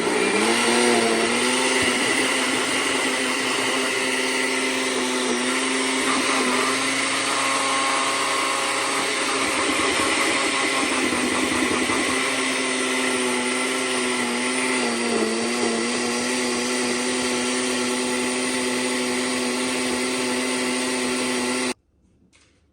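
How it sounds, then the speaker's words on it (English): A blender runs steadily, mixing cream cheese and butter with a little egg for gluten-free French toast pancakes, a loud continuous whirring motor drone with slight shifts in pitch that cuts off abruptly near the end. "And blend this together until smooth."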